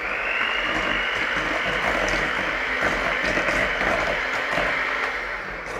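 An electric mixer whirs loudly and steadily through Victoria sponge cake batter with eggs, a continuous mechanical buzz with slight rattling and no voices.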